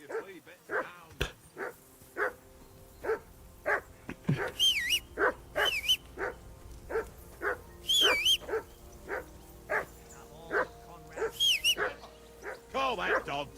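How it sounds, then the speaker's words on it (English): Repeated dog barks from a hound in the video game Kingdom Come: Deliverance 2, sounding in a steady run of sharp yaps and woofs across the whole stretch, with other game sounds and occasional voices underneath. "Call that dog down."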